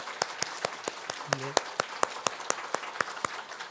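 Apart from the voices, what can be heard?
congregation applauding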